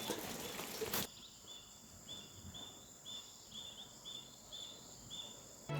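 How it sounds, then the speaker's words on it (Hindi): Small birds chirp in a quiet pine forest in the Kumaon hills, a series of short repeated high calls spread through the stillness, fairly faint and alone after a brief rustle at the start. "एक सुनसान, एक शांति, प्योर चिड़ियों की चहचहाहट"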